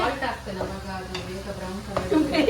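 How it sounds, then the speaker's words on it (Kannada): Onions fry in ghee with ginger and garlic for an Onam meal, a steady close sizzle with stirring scrapes and a few louder clatters near the end. "ಗೀ ಹಾಕಿ ಆನಿಯನ್ ಫ್ರೈ ಮಾಡ್ಬೇಕು"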